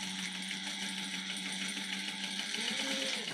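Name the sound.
sewing machine basting a crossbody bag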